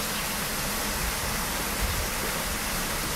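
A stream flowing outdoors in nature makes a steady, loud broadband rush, close and unbroken, with a faint low thump near the middle.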